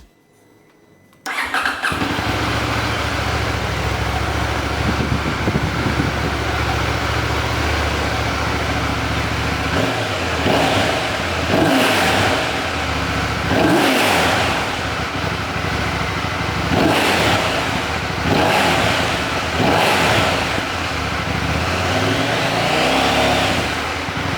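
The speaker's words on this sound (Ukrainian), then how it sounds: "давайте я заведу мотоцикл, послухаємо, як звучить." A 2025 Husqvarna Vitpilen 801 motorcycle engine cranks and catches after a quiet moment, then idles loudly with several sharp revs rising and falling, close to the mic.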